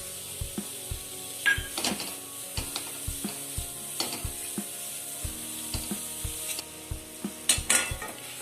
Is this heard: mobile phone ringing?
no